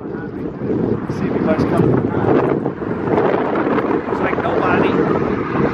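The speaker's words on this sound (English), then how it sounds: "Wind's blowing about 20 miles an hour." Strong wind of about 20 miles an hour roars steadily across the microphone on a bridge tower during a bike crossing of the Lewis and Clark bridge, a loud continuous buffeting under a man's speech.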